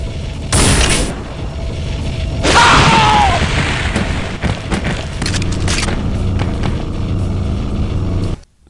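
A gunshot strikes a trapdoor in Unreal Tournament 99, giving a loud booming burst followed by a mechanical rumble and scattered clanks, set against a steady background hum of game ambience.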